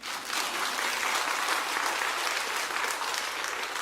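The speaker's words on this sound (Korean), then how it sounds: "이럴 땐 박수 나와야 되는데." An indoor audience bursts into applause after a sermon punchline at a church camping gathering, a dense, sustained wash of clapping hands that holds steady for several seconds with no voices over it.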